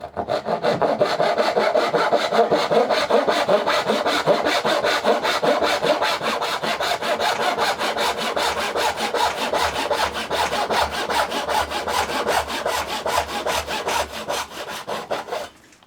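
A hand saw, freshly set with hammer and punch and stoned with a diamond stone, makes a test cut through wood: loud, close, steady back-and-forth rasping strokes in a quick even rhythm for the whole stretch, with no talking.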